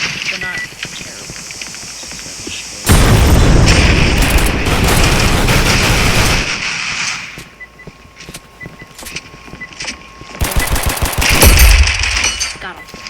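Video game pistol fire in a round of Operation One, with loud bursts of shots and booming bursts coming in clusters, mixed with game sound effects and a player talking over the action.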